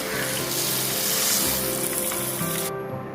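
Tamarind water for kozhambu poured into a hot pan, a loud bubbling hiss and sizzle that holds steady, then cuts off abruptly near the end.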